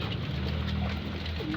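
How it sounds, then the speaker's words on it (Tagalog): Pigeons kept in a backyard loft coo softly and continuously against a dense, noisy outdoor background, with no voices. "nagpasukan na yung mga pasaway nating ibon"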